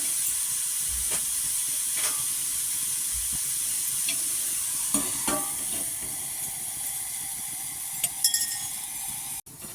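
Green chili thecha frying in a pan under a steady hiss and sizzle, with a few scattered clinks and scrapes of stirring and a sharp knock near the end.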